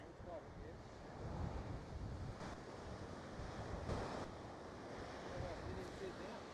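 Wind gusts across an exposed seaside golf course on the water's edge, a faint, steady roar of buffeting noise mixed with surf, with no clear voices.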